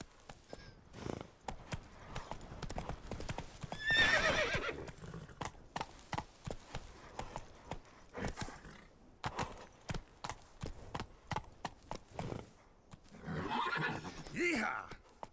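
A horse in The Witcher 3 gallops with quick, rhythmic hoofbeats, punctuated by a loud neigh and a second whinny near the end, while a voice calls out commands over the action.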